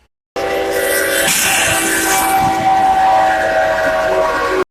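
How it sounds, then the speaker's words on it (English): A massive freight train plows through a crossing at night, its loud sustained rumble and horn blast filling the scene up close from start to finish. "a massive freight train comes plowing through"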